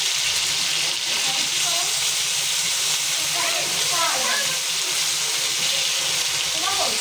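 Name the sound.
cooking pulao on the stove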